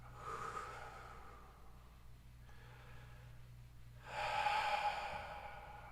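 Slow, deep breathing during a mindfulness meditation, a soft inhale followed by a longer, louder exhale, heard close and alone against a quiet low hum.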